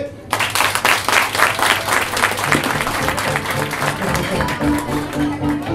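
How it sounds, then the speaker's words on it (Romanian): A live audience at an improv comedy show bursts into sustained applause, many hands clapping densely and steadily from start to finish with a few voices and a low hum underneath. "o să vă rog să aplaudați dacă ați mai fost vreodată la un show de improvizație"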